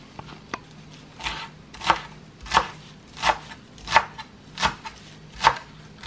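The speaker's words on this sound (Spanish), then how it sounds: "Y vamos a estar picando también el cilantro." Fresh cilantro chopped with a knife on a cutting board, a run of about nine crisp, evenly spaced cuts close to the mic with no talking.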